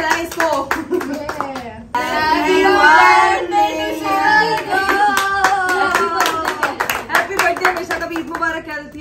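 Hands clap in celebration of a YouTube golden play button at a one-million-subscriber party, steady clapping mixed with loud cheerful voices and someone speaking throughout.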